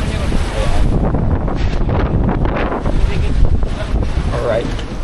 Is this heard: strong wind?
yes